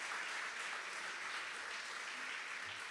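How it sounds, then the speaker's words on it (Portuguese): A church congregation applauds steadily through the whole stretch, a broad, even wash of clapping at moderate distance with no talk. "Aplauda Ele em nome de Jesus."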